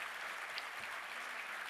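A short burst of faint, even clapping from an audience at the Béarnais de l'année 2022 ceremony, honoring Amanda and her family, heard alone as a brief patter.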